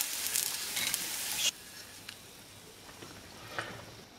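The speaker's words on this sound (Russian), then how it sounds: "И обжарим грибы." Mushrooms frying in a skillet for pirozhki filling, giving a soft crackling sizzle that is busier for the first second and a half, then settles into a quieter hiss with occasional faint pops and stirring touches.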